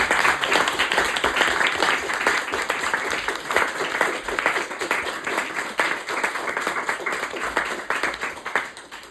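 An audience at a book release reading in Cafe 1923, Hamtramck, applauds steadily for the author, Matt: dense, sustained clapping from a room full of people, close and even throughout.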